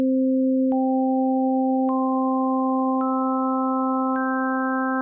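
Pure sine tones build up a harmonic series: a steady low fundamental is joined every second or so by a new, higher overtone, stacking into a clean sustained chord.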